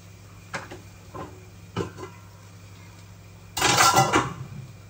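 Fried ingredients are dropped into a mixer jar: a few sharp clinks and knocks spaced apart, then a louder clattering scrape of food and utensil against the jar, over a low kitchen hum.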